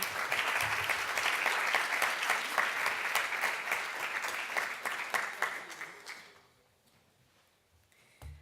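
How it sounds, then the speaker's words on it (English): An audience at a policy roundtable on antipoverty and juvenile justice reform gives loud, sustained applause that holds steady for about six seconds, then quickly fades to near silence. "So please give a round of applause for Mayor Asia Brown from the city of Compto"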